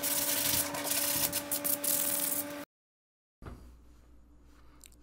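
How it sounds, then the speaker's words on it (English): Hand sanding of wood with 150 grit sandpaper to smooth dried glue and rough spots, close and rhythmic rasping strokes that stop for a moment of silence, then a faint resumption. "I also clean up any dried glue or rough spots with some 150 grit sandpaper"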